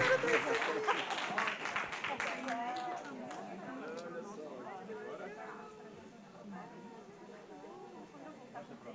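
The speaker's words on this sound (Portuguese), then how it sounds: "E mais aplausos para Patrícia Campos Melo e Evelyn Bolsas pela participação" Audience applause for panel participants at a conference session on communication and democracy. Brisk clapping rises at the start, then thins and fades as voices talk over it.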